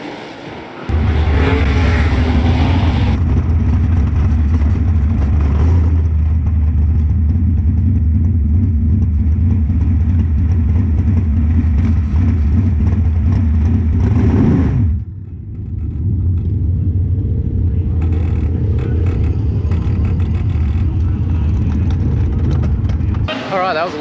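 Race cars roar around a fast half-mile oval, a loud sustained engine drone that drops sharply, then builds again as another pack passes, heard without talk.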